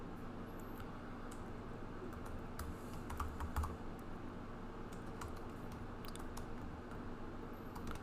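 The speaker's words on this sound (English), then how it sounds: "I'm going to type in hello world." Typing on a computer keyboard while coding, with steady faint key clicks over a constant low background hum throughout.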